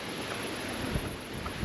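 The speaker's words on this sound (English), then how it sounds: "Hope you're picking it up with all this wind" Wind buffeting a microphone outdoors at a wild camp in the UK ahead of strong gusts, a continuous rough rumble with low thumps of gusts, close and without speech.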